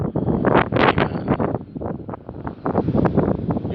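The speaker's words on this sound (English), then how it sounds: "As you can see, it's getting a little windy here." Gusty wind buffets a microphone outdoors in loud, rapid bursts of rumbling noise that rise and fall in waves for a few seconds, with no voice.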